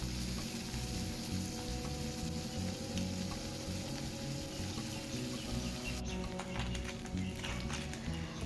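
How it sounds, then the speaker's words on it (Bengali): Pomfret fish frying in oil until crisp make a faint, steady sizzle with scattered small crackles and pops, heard alone at low volume throughout. "আর মাছগুলো আমি এবার একটু সুন্দর করে কড়া করে করে ভেজে নেব"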